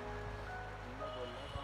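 The clear Ramganga river flows past in the Dhikala zone of Jim Corbett Tiger Reserve, heard as a faint, even rush of moving water with a low steady hum beneath.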